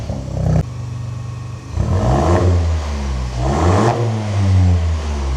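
A VW Up GTI fitted with a dual exit straight pipe exhaust and a cam revs hard, its loud, raspy engine swelling and falling in repeated throttle blips after a short idle.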